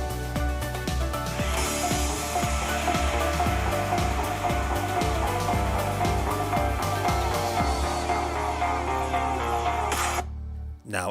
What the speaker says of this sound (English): Speaker test of the Galaxy Book 4 Pro,